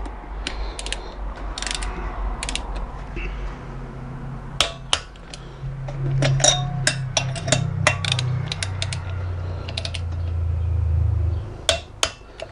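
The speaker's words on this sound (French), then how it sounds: "Pour le serrage des 4 dernières vis." Tools tighten the last cylinder head screws on a Yamaha Virago 125, with scattered close clicks and ratcheting metallic ticks in short bursts over a low background hum.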